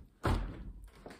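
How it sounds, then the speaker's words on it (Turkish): A small balcony door is pulled open in an apartment with one heavy thunk of the handle and frame, then a softer knock a moment later. "Kapıyı açayım."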